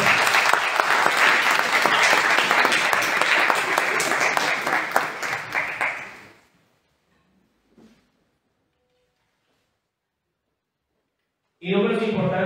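An audience at a talk gives loud, crowded applause for about six seconds before it dies away into near silence. A voice then speaks close by at the end.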